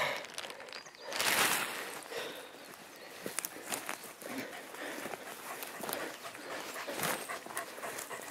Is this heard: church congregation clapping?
no